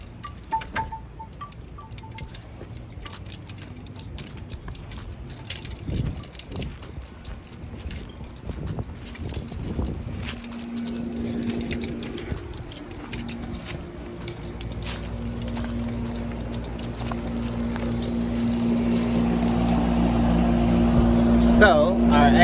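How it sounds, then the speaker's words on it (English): An outdoor air conditioner unit runs with a steady, rising mechanical hum after starting up, mixed with gusty wind noise outdoors, and a person talks over it. "So, our AC is started up."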